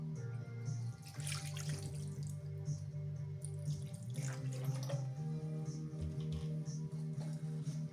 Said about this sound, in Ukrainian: Мінеральна вода сильно газована.